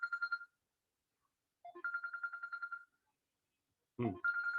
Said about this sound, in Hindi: जरा कोई इंपॉर्टेंट फोन आ रहा है